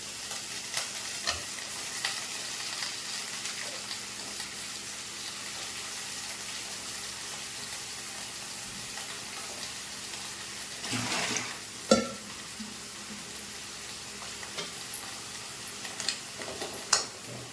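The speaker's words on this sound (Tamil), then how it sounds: "கத்திரிக்காயும் உருளைக்கிழங்கும் போட்டு நல்லா வதக்கணும் அந்த எண்ணெயிலேயே நல்லா வதக்கணும்" Brinjal and potato sautéing in oil make a soft, continuous sizzle with occasional stirring scrapes and a brief louder burst near the middle, heard close and fairly quiet with no talk.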